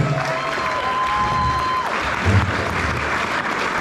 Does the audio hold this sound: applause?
yes